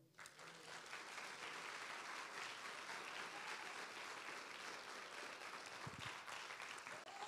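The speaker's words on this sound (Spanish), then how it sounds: "Denle un aplauso al Señor" A church congregation at a Spanish-language sermon claps together in praise, a thick, continuous wash of applause that stays steady throughout, with a faint voice briefly audible near the end.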